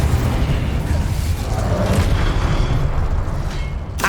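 The Incendio fire spell in Hogwarts Legacy gameplay produces a dense, sustained rumbling whoosh with booming low end, loud and continuous for several seconds, fading slightly toward the end.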